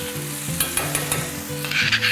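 Butter sizzling in a pan of Mumbai street-style pav bhaji with tomato puree, a steady frying hiss with stirring scrapes over a low cooking drone, fairly close.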